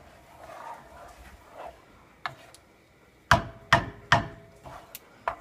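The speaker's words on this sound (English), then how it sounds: "I cut the butter" A knife chopping through a block of butter for croquette roux, a handful of sharp, separate knocks on a board, four loud close strikes after a few fainter taps, with no voices.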